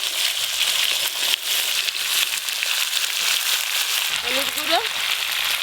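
Yardlong beans and potatoes with five-spice tempering and turmeric sizzle steadily in a pan, a continuous close frying crackle while someone talks over it.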